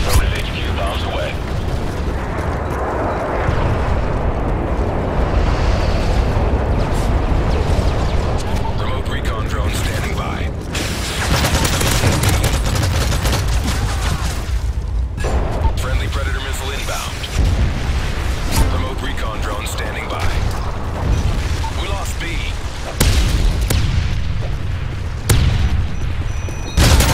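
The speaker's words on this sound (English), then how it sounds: "Stealth airstrike. Nighthawk, you are cleared for bomb run on Green. Relay HQ, bombs away." Stealth airstrike bombs from Call of Duty MW3 boom and rumble in a loud, dense barrage, mixed with gunfire. Radio-style voice lines from the game play throughout.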